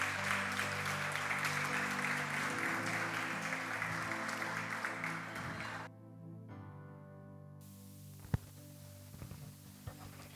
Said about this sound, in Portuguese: Você pode aplaudir o santo nome do Senhor